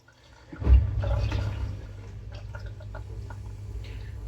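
Water splashes and trickles as slurry is wiped off a Japanese natural Ohira honing stone used for straight razor honing, a sudden wet burst followed by quieter dripping and scraping, close and fairly faint.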